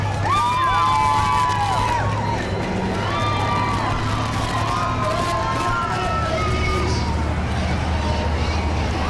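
Spectators lining the course of the 2009 New York City Marathon cheer and shout continuously, a broad roar of crowd noise with whistles and yells, heard under a commentator's steady talk throughout.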